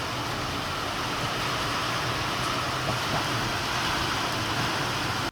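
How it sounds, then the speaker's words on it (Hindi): Heavy rain pours down outside a home in India, a dense, loud, continuous hiss and patter that stays level throughout, with no voices. "कितनी तेज बारिश आ रखी है"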